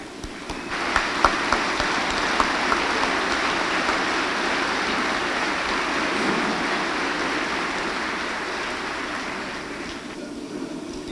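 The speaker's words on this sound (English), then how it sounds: "Please stand and bring a round of applause to the grads." Audience at the Camrose Composite High School class of 1993 graduation applauding the graduates, a dense, steady wash of clapping from a large crowd that holds for about ten seconds before tapering off.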